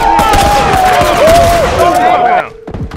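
Gunfire from the video game The Last of Us Remastered, a rapid run of sharp, loud shots crowding the opening seconds, with game music and a sustained tone running underneath before the firing drops away.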